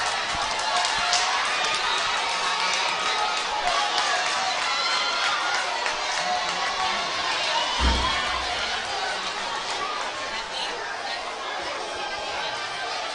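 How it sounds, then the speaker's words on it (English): Football crowd at the SKNFA finals, St. Pauls versus Village, roaring and chattering continuously after an equalizing goal, a dense wall of stadium noise with a brief thump near the middle and a commentator talking over it. "Crowd goes wild."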